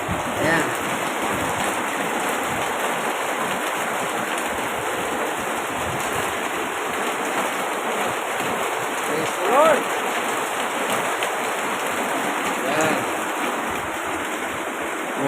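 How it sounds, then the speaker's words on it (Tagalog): Steady rain falls continuously, a dense even hiss of drops on surfaces with a few brief louder patters. "Ulan na po."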